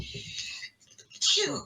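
A single sharp sneeze bursts out after a moment of quiet, following a brief bit of murmured talk.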